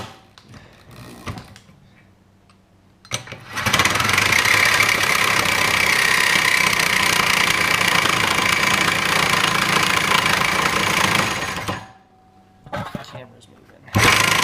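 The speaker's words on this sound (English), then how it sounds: "we're pushing the boundaries of what SawZalls can do, and we're going to see how it performs cutting 3/4 inch steel" A Milwaukee Sawzall reciprocating saw chews through 3/4-inch steel in one long, loud, close burst of harsh buzzing rasp, with quieter handling noises before and after.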